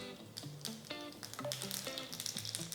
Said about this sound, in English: Once the mustard seed starts splattering, turn off the stove